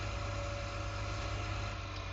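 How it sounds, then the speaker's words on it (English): John Deere tractor engine idling on a farm, a steady close low rumble with constant vibration and no change in pitch. "Look at that tractor."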